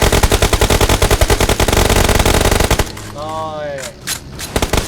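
Rapid automatic gunfire from a battle royale squad match, loud bursts of shooting at an enemy vehicle that fill the first few seconds before fading into scattered shots and game sounds, with someone briefly speaking.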